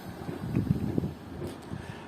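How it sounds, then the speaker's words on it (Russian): Gusty wind buffets the microphone in low rumbling bursts, steady and fairly loud throughout, with no voices. "Единственное, что сильный ветер."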